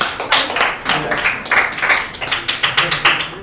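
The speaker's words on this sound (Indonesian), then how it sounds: "Baik, kita kasih aplaus kelompok." Group applause for a presenting group of students in a classroom, a dense run of many hands clapping close by, loud and steady with overlapping sharp claps throughout.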